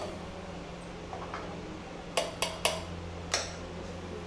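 Metal bowls of a five-tier tiffin carrier being handled and stacked, giving a few crisp close clinks and taps, mostly a quick cluster of four near the end, over a quiet steady background hum.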